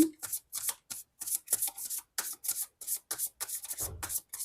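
Tarot cards shuffled by hand in a rapid, steady run of crisp riffling bursts, close and alone, with a short soft thump near the end.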